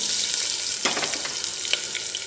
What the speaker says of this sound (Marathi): फोडणी तडतडली